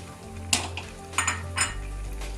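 A cooking pot of gobi gosht, cauliflower with meat, being covered with its lid, three short metallic clinks and clanks over a low steady hum, no talking.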